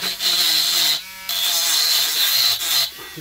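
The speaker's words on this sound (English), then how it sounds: "I've managed to grind a little flat on the end there" A WL-800 micro grinder grinds a flat on the end of a metal nail, giving a steady high-pitched rasping whine broken by two brief pauses.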